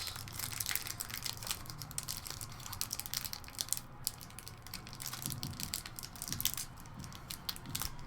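Pokemon booster pack wrapping being cut and pulled open with a knife, a dense run of close crinkling and crushing plastic foil that keeps going throughout with no talk.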